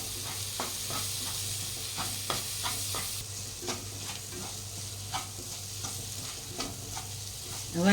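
Gram flour roasting and being stirred into a spicy papad curry gravy in a pan, giving a steady soft sizzle with repeated scraping stir strokes close by, with no talking.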